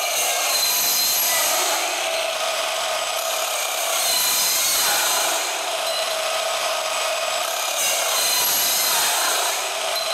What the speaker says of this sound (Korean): 1050 모델로 지름이 40mm 정도 되는 하우스파이프를 절단해볼게요